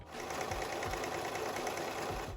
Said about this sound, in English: I'm going to do a little sample stitch just to make sure that I'm happy with my settings